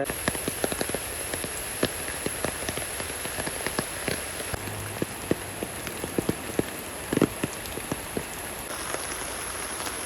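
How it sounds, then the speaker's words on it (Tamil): Heavy rain pours at an old railway station as a steady close hiss of rain hitting surfaces, with scattered louder drips and splashes and a faint high tone running throughout. "ஆனால் மழை இன்னும் அடித்து வெளுத்து வாங்குது"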